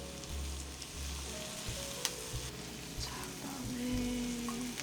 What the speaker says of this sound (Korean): 얘를 한번 볶아 볼게요. 양파부터 넣어서 향을 먼저 내주고요.